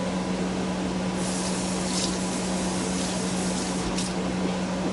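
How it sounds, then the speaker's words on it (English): Water sprays and splashes steadily into a can being rinsed out at a kitchen sink while making pot roast, a constant rushing hiss with a low hum beneath and no talk. "I'm going to rinse out my can here."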